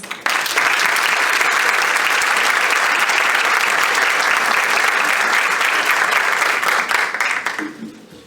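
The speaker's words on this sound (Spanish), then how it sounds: "vamos recebê-lo com uma salva de palmas" Audience applause welcoming a guest speaker at a lecture on Bach flower remedies for animals, a full, sustained round of clapping from a seated crowd that stops abruptly near the end.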